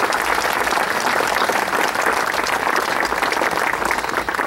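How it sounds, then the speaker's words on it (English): A crowd at an outdoor statue dedication ceremony in Cleveland, Ohio applauds a boxer's descendants, loud steady clapping sustained for several seconds with no speech over it. "Let's recognize them with a round of applause."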